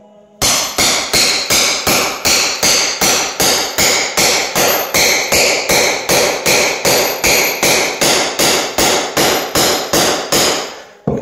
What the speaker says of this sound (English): Put it in at an angle with the cold chisel.